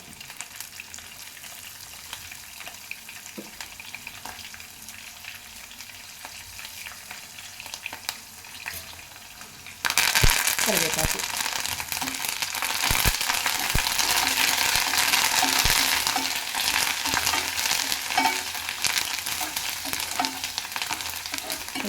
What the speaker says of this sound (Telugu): మన పోపు అయితే వేగిపోయింది